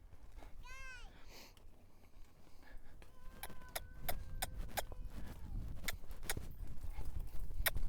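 A young colt's hooves clip-clop at a steady walking pace, fairly close by, with scattered clicks and jingles of tack around them and a brief whinny-like call early on.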